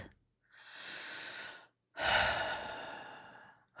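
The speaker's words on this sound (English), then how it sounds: "Take a breath." A person takes two slow, audible breaths close to the microphone, a long inhale followed by a stronger, louder breath with a brief pause between them.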